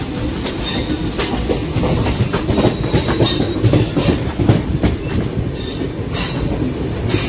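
A passenger train with 3-tier economy coaches rolls past near Guntur, a loud, steady rumble with rhythmic clacking of wheels over rail joints and occasional squeals, close by for the whole stretch.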